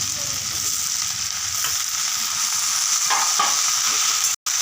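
Onion, garlic, ginger and tomato sauté in a pan for varamalli chutney, giving a loud, continuous close-up sizzle with occasional stirring scrapes. There is a brief dropout near the end and no speech.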